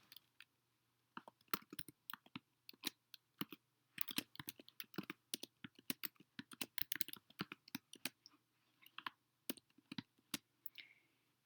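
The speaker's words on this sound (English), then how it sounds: "So I will type those in here." Faint, quiet typing on a computer keyboard, a long irregular run of many individual key taps in clusters, close and alone without talk.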